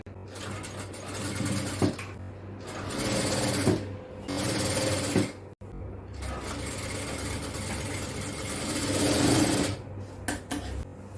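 A sewing machine stitches nighty fabric, joining a sleeve seam on a yoke nighty, running in a steady close whir with short pauses between bursts of stitching.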